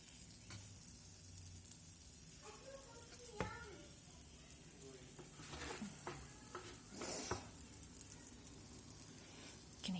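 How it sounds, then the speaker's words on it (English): Dosa batter sizzles on a hot tawa as a faint, steady crackling hiss, broken by soft scrapes and stirring knocks. "You can hear that sizzling sound."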